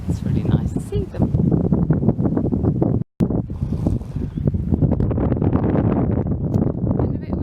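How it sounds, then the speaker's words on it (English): Strong wind buffets the microphone in a loud, continuous rumbling roar, with a brief dropout partway through and speech faintly underneath. "Getting a bit windy now, isn't it"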